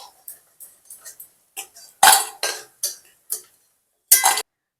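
Fried chana dal fritters lifted out of the oil with a metal utensil, a run of sharp clattering scrapes and taps against the pan, spaced irregularly and close, with silence between strokes.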